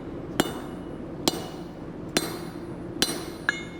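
A hammer strikes knife steel on an anvil in sharp, ringing blows at a slow, even pace, five in all, close and clear while a first knife is forged.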